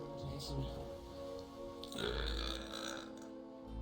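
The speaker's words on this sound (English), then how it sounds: "I burp a lot, I'm sorry." A person burps loudly several times while playing Sea of Thieves, with game sounds underneath.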